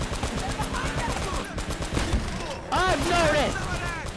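Rapid automatic gunfire in the video game Uncharted: Drake's Fortune, dense bursts of shots crackling throughout, with a voice shouting briefly over the fire and squealing tones toward the end.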